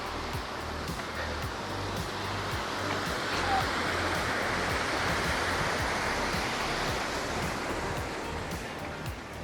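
Water from a river rushes and flows steadily as a dense, constant broadband roar. It stays close and continuous the whole time, with no talking.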